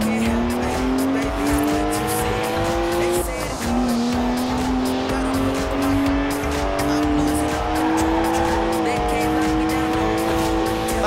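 A BMW 1M with a 3-litre twin-turbo straight six drifts in Forza Horizon 4, its engine droning and rising through gear changes amid constant tire squeal, loud and close, while a voice talks over it.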